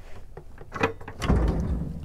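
Large storage drawers beneath the bed in a cabin aboard a 2005 Fairline Squadron 58 yacht slide and knock shut, a few close wooden thumps and scrapes, the loudest near the end.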